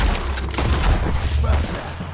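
Heavy, booming gunshots in Red Dead Redemption 2 ring out over a rumbling, busy background, a few loud reports spaced across a short stretch, with a voice mixed in.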